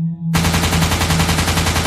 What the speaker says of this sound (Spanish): antes de escuchar los primeros disparos en la superficie de la pirámide